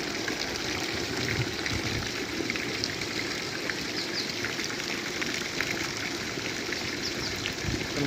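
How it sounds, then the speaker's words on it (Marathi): Heavy rainwater runs and streams along in a downpour, a steady broadband wash of flowing water with dense patter, constant and fairly close throughout. "कशा प्रकारे पाणी वाहत आहे आपण पाहता मित्रांनो"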